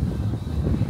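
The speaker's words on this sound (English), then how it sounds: "it's very windy here" Steady, dull wind rumble buffets the microphone outdoors at a long market in Amsterdam, a low, continuous roar with no clear voices.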